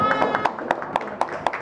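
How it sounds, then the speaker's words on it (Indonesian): A gathering in Kediri claps for the launch of the Mahanani website, a light, evenly spaced run of hand claps heard close, with faint voices beneath. "Tepuk tangan untuk website Mahanani kita yang telah di-launching pada hari ini."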